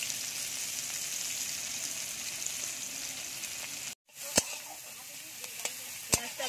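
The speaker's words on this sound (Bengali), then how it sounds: "ওই তেলে দিয়ে দেবো পেঁয়াজ কুচি," Chopped onion sizzles in oil in a pan after eggs were fried in it; a steady, close crackle runs, breaks off briefly, then resumes with a few sharp utensil taps.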